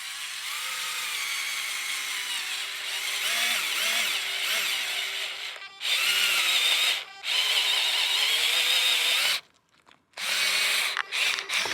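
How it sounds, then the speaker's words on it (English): A cordless drill bores into wood with a loud, steady high-pitched whine, briefly stopping and restarting several times, close up and without speech. "So let's fire it up and see what happens."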